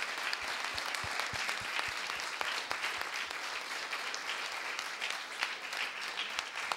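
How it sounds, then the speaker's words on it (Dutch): Steady applause from a church congregation during a sermon, dense clapping sustained throughout at a moderate distance. "Jezus Christus een applaus."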